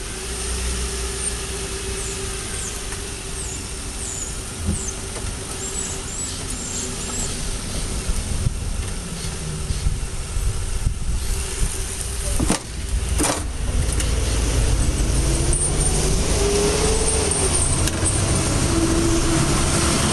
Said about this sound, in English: Then you just drive back the car a little bit and drive forward.